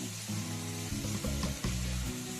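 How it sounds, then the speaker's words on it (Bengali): Whole dried chilies crackle and hiss on a hot tawa, a steady close sizzle over a low droning hum, with no talking. "তাওয়ার মধ্যে আমি যে গোটা মরিচটা রেখেছিলাম, সেই গোটা মরিচটা ভেজে নেব"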